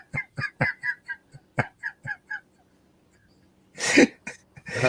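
A noisy bird calls in a quick run of short, evenly spaced honking notes, pauses briefly, then lets out a louder, harsher burst of squawks up close.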